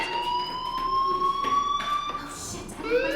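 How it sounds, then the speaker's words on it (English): A fire alarm in the video game Life is Strange sounds as a steady electronic tone with warbling pitch sweeps, heard continuously with soft background noise. "Hey, do you hear that fire alarm? That means you should be outside."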